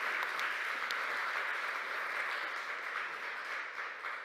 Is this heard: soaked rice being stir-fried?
no